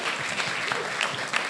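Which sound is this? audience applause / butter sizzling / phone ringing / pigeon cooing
audience applause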